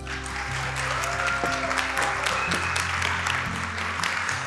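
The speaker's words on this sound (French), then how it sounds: "je veux un tonnerre d'applaudissements pour Sarah Ouramoun." Audience welcoming a speaker onto the stage with a thunderous round of applause, dense and continuous clapping filling the room with a few scattered cheers.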